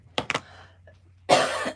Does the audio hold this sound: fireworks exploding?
no